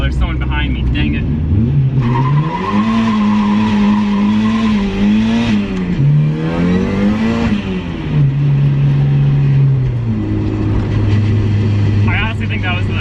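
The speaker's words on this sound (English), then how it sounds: "Hear that tire squeal?" A turbocharged Miata launching into a drift with a loud sustained tire squeal that rises and wavers in pitch over the revving engine, close and continuous for several seconds.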